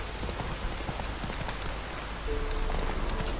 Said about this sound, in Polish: tylko deszcz pada i dlatego tak jest